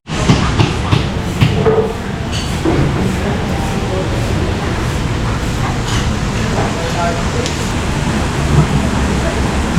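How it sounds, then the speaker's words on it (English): Heavy torrential downpour outdoors near a restaurant in Cairns, a loud, dense and steady roar of rain that holds without a break for the whole stretch, with traffic-like rumble underneath. "In this torrential rain, this downpour that hasn't really stopped since I arrived."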